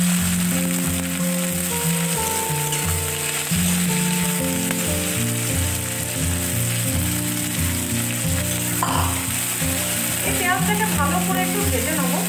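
Crushed garlic and chopped onion fry in hot oil, a continuous loud sizzle with stirring scrapes, while someone talks over the cooking throughout.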